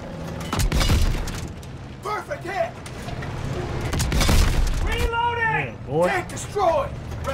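Tank destroyed in Call of Duty WW2: heavy booming explosions and rumble amid battle noise, with shouted voices over the blasts.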